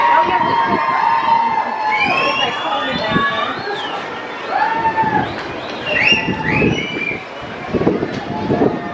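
Cruise ship passengers on the Disney Dream cheer and shout at sail away, a lively crowd with whoops and raised voices rising and falling continuously, nearby and loud.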